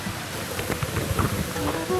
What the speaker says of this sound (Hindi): फाइनली भाई वाटरफॉल दिखने लगा है मुझे, दिखाऊं ये वाटरफॉल,